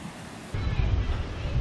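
High surf pounding the Lumajang coast in bad weather, a sudden loud broad rush of breaking waves with wind noise, close and continuous after a quieter start.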